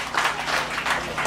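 Applause from a crowd at the grand opening of an RC club facility, a steady wash of clapping with a few brief swells, fairly close and filling the whole moment.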